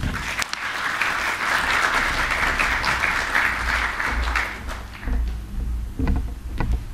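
Applause from an early Saturday morning audience welcomes celebrity cook Adam Liaw to the stage, a steady dense clapping that fades toward the end with a few louder stray claps.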